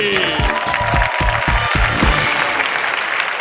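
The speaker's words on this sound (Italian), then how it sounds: "E ora un grandissimo applauso per Daniele Fabbri!" A stand-up comedy audience applauds as a comedian is introduced, a steady wash of clapping with some lower voices mixed in, sustained and fairly loud throughout.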